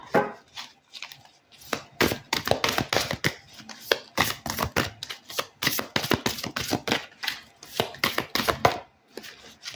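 Oversized playing cards are shuffled by hand in a busy run of crisp slaps and fluttering riffles, close and irregular, with short pauses between bursts and no speech.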